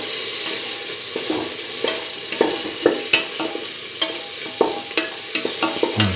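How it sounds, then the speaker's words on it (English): Curried beetroot and chickpea mixture sautéed and stirred in a pan, with steady soft sizzling and a run of scraping, clacking spoon strokes at an uneven rhythm, close by with no talk. "Thoroughly saute and mix."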